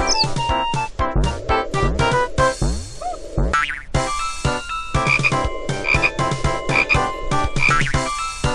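In the game Bobby Bola, loud frog croaks with springy boing-like calls sound repeatedly amid a busy run of game effects and musical tones, fast and continuous throughout.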